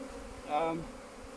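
Honeybees buzzing during a summer hive inspection, a brief rising and falling hum as a bee passes near, over quiet background.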